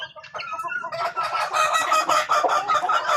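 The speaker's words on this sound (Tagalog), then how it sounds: "Ito yung iba natin mga sisiw." A flock of young chicks and chickens released from a coop, clucking and peeping busily and continuously at close range, with no talk over them.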